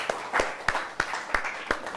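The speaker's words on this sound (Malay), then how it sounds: "beri tepukan kepada Amin lagi sekali." Sparse, separate claps from students in a school chemistry classroom, a handful of sharp hand claps spaced irregularly rather than a full sustained round of applause, moderately close and fairly quiet.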